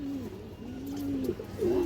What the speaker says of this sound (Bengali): বড় সাইজের একটা কবুতর এবং ফুল ফ্রেশ কবুতর দর্শক